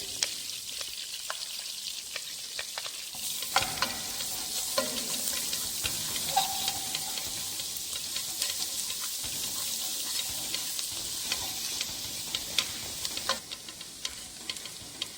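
Chopped garlic frying in about 15 grams of melted butter in a food-production practical kitchen: a steady, close sizzle and hiss runs throughout, broken by light clicks and scrapes of stirring, with no voices.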